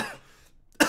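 A person getting over a cold lets out a short, sharp cough near the mic at the very end, after a brief trailing voice sound and a moment of near silence.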